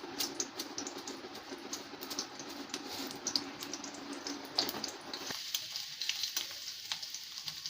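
Onion sizzles and crackles as it is tempered in hot oil, a dense, steady frying hiss with sharp pops, thinning out and quieter in the final seconds.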